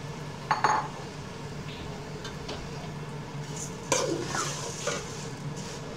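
Vermicelli stirred and roasted in a pan with cardamom for sweet seviyan, heard as soft, steady scraping with a light sizzle and a couple of sharper clinks of utensil against the pan.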